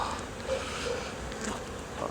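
Honey bees buzz steadily around an open hive during a colony inspection, a dense, close drone with no one speaking.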